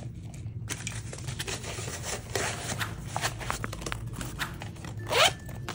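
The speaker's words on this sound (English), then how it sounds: "Zipper closure." A zipper on a canvas pouch is pulled in a few rasping strokes, with one quick, louder zip near the end, close up.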